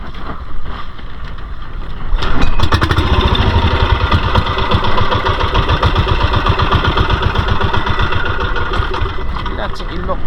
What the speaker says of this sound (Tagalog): Ma-idol lang yung makina eh.